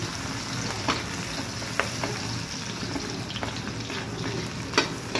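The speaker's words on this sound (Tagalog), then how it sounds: "hinalo na natin para pantay-pantay talaga yung pagluto natin sa sibuyas at bawang" Onion and garlic fry in a pan for a water buffalo coconut-milk dish, a soft continuous sizzle with a few sharp spatula scrapes and clicks as they are stirred, no voices.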